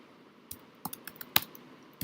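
Typing on a computer keyboard, a handful of quiet, irregular key clicks spread over a couple of seconds, close by with no talking.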